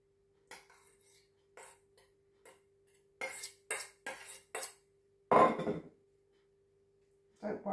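A spoon scrapes and taps against a dish while laying a hot onion and apple mixture across pastry for pork and apple sausage rolls, several short separate clinks and scrapes with a louder scrape near the end, close and quiet.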